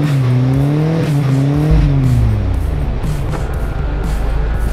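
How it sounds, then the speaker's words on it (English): A small petrol-engine 4x4 with smaller tires revs hard on a back-country road, its engine note climbing and then dropping as the wheels spin, loud and close with no talking. "What I do have on my side is a little petrol engine that loves to spin some wheels."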